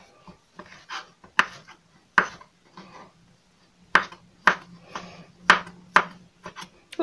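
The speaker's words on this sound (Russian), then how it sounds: "Теперь будем нарезать свинину. Тоже мелким кубиком." A kitchen knife dicing pork into small cubes on a cutting board: sharp, irregular chops and knocks, a few close together, with quiet gaps between them.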